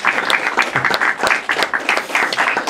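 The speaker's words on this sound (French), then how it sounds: "Alors on va applaudir." Close, lively clapping from a small audience at a film masterclass, with individual claps standing out in an uneven, brisk rhythm throughout the short burst.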